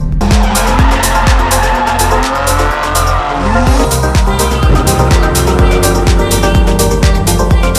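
Tires skid and squeal loudly throughout a drifting car ride-along, the engine roaring close and continuous as the car slides through repeated turns.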